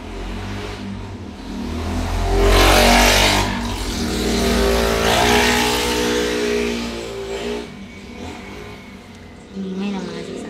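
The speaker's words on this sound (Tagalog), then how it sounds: "Ingay ng mga sasakyan dito guys." Cars and other vehicles driving along the longest bridge in the Philippines, engines swelling as they pass nearby and then fading, with a steady rumble of traffic underneath and a voice speaking over it at times.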